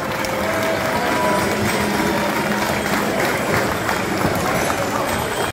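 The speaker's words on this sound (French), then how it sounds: "Applaudissez-vous tous." Crowd applause fills an outdoor giant baptism festival in Genappe, a steady dense wash of clapping and cheering that holds loud and even throughout without a break.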